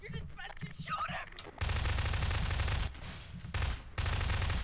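Gunfire in the video game Garry's Mod Prop Hunt, played indoors, comes as loud, dense rapid bursts broken by short pauses, after a brief stretch of voice at the start.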